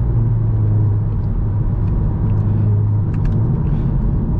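Inside a Volkswagen Golf R 7.5 driving at night in sport mode, the engine sets up a steady, loud low drone with a deep rumble and light cabin noise.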